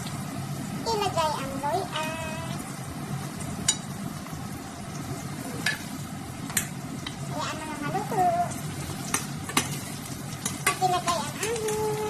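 Sweet coconut filling for pan de coco being stirred in a pan, with soft scraping and sizzling under near-constant chatty talk, plus a few sharp clinks of the spoon.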